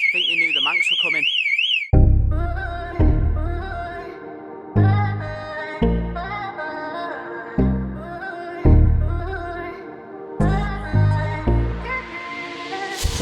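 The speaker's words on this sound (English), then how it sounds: "I think the alarm works." A warbling electronic car alarm tone from a BMW E46 sounds briefly at the start, then gives way to loud, repeated musical chords and thumps.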